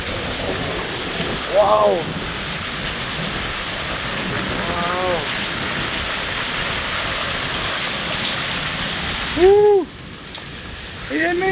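Heavy rain pours down in a steady, dense hiss throughout, while a person exclaims loudly a few times over it.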